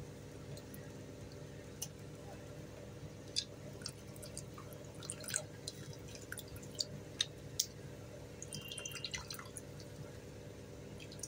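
A guava-sized lump of tamarind is squeezed by hand in water, giving scattered soft drips and small wet squishes, faint and close, over a quiet steady background hum.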